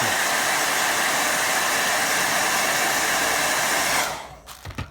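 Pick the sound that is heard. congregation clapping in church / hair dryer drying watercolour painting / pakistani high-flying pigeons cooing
hair dryer drying watercolour painting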